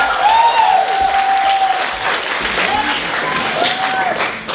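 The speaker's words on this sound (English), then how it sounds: "let's give a big round of applause for allergic aardvark" A stand-up comedy crowd at a 2012 troupe show applauds comedian Aileen Ma, with steady, fairly loud clapping and a drawn-out voice heard over it before the noise eases slightly toward the end.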